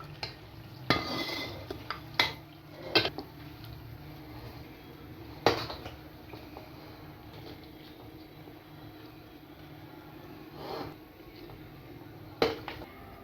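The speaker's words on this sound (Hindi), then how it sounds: "माशाल्लाह नमकीन मटन हमारा तैयार है और मैं इसको डिश आउट करती हूँ।" Pots and utensils clink and scrape sharply and intermittently while Peshawari namkeen mutton is dished out, with about half a dozen distinct knocks over a quiet kitchen background.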